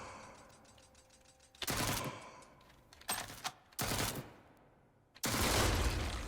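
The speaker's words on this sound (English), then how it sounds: "This dude's got a chain gun." Chain gun firing in the sci-fi roguelike video game Jupiter Hell, several loud bursts of rapid automatic fire separated by pauses, the last burst long and sustained, with game tones faintly beneath.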